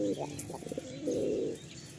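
Big Madrasi pigeons coo in a loft, with rolling throaty calls close up and a sustained burst in the middle, joined by faint chirps.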